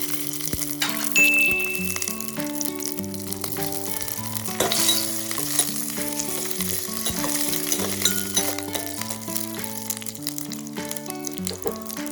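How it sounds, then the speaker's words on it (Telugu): Green chillies fry in a little hot oil, a continuous close sizzle with occasional clinks and scrapes of a utensil against the pan as they are stirred. "అలాగే కొద్దిగా ఆయిల్ వేసుకొని పచ్చిమిరపకాయలను వేసి వేయించుకోవాలి"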